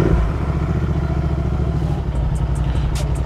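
A Royal Enfield Interceptor fitted with a Barrel Atom exhaust rumbles steadily and loudly while riding, its engine note continuous and close with no talk over it.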